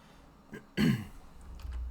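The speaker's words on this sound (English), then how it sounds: "Now I apologize if I cough." A single close throat clearing, a short rough cough-like rasp, preceded by a faint breath and followed by quiet room noise.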